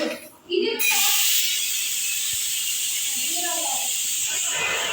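A pressure cooker releases steam after its whistles in a home kitchen, with a loud, sustained hiss that starts abruptly and holds steady, while voices talk briefly at the start and in the middle.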